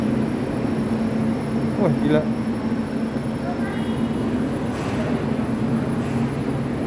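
A modern electric commuter train gives a low, steady rumble and rolling hum beneath close, excited talk from people nearby.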